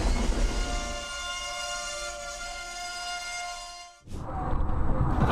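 A train brakes hard in an emergency stop, steady metallic screeching tones sustained for several seconds before cutting off abruptly, followed by a rough rumbling roar.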